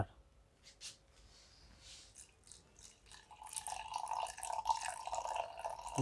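A Philips drip coffee maker starts brewing, quiet at first under a faint voice, then building into a steady hiss and gurgle of heated water in the second half.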